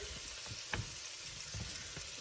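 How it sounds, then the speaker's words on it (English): Osso buco sizzles and spits steadily in a hot frying pan, with a few soft knocks of a utensil; no talking. "So while these are frying"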